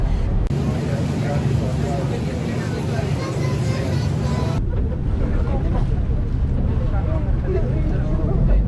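Low, steady engine rumble and water wash of a ferry underway in Istanbul, arriving at Ortaköy, with murmuring voices and wind noise throughout.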